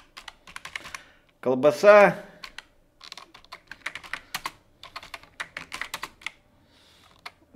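Keys clatter on a computer keyboard in quick bursts of clicks while someone speaks Russian between and over the typing.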